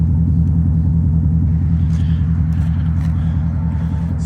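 A loud, deep exhaust rumble from a 16-year-old Porsche Cayenne idling nearby with its exhaust valves open, steady and throbbing with low pulsing tones.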